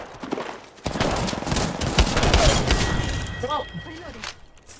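Apex Legends gunfire, a dense loud burst of shots and impacts packed with game effects, while players talk over the action.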